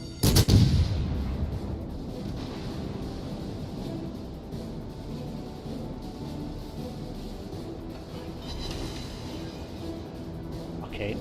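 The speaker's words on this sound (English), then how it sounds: "Okay, not really an impressive salvo." A heavy cruiser's main gun salvo booms in World of Warships Legends, one loud blast at the start trailing into a long rumbling wash of sea and engine noise, with no talking.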